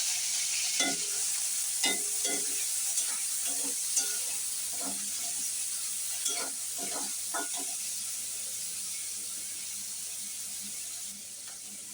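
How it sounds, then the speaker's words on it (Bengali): Shrimp frying in hot oil in a pan, a steady sizzle close by with repeated clinks and scrapes of stirring scattered throughout, no talk. "তেলটা গরম হয়ে গিয়েছে, এখন চিংড়ি মাছগুলো দিয়ে দিচ্ছি"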